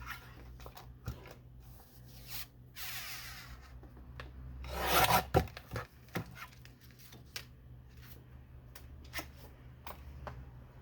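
Black cardstock being trimmed to size for a paper craft: soft scattered handling and rubbing sounds, then a brief, louder scraping slide of the cutter blade near the middle, followed by light taps and rustles.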